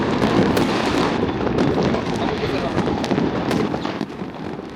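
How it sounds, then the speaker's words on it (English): New Year's Eve fireworks burst over Bangkok, seen from a hotel rooftop, in a dense rapid crackle of pops and booms at mid distance, with people talking and reacting over the continuous barrage. "the fireworks show from our rooftop here"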